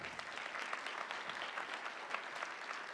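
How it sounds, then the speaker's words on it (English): Audience applause at a graduate public health hooding ceremony, a steady, moderately faint patter of many hands clapping from the room, continuing evenly without speech. "we will give them a round of applause"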